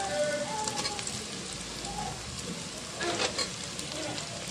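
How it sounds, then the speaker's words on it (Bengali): Onion browning in a pan for a duck curry, a steady close sizzle and crackle with small pops throughout, faintly stirred. "পেঁয়াজটাকে এখন আমি একটু কালার করে নিব।"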